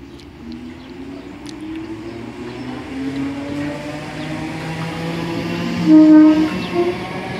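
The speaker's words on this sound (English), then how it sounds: "This train is ready to leave." A Southern class 313 electric train, unit 313201, pulls away from a station platform on a Brighton to Portsmouth Harbour service. Its traction motors whine with rising, steady tones, and a brief horn note sounds close by near the end.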